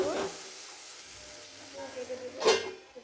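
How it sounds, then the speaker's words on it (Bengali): Potatoes frying in a pan in a home kitchen, a low steady sizzle with a brief louder burst of hissing near the end, faint and close. "আলুগুলো একটু কষায় নিব।"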